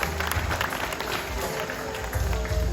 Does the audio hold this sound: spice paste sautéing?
no